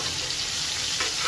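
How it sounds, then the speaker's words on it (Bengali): Rohu fish pieces frying in hot oil make a dense, steady, close sizzle that stays even throughout the short stretch, with no voices. "মাছগুলো একটু ভালো করে ভেজে নিই"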